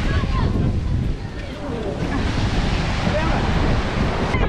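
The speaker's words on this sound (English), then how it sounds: "The water came in the boat and people got wet." Waves crash and splash water over the side of a small boat, a loud continuous roar of surf and spray with wind buffeting the microphone.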